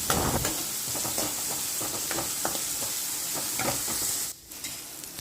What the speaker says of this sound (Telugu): ఆనియన్స్ బాగా వేగేంత వరకు వేయించుకుందామండి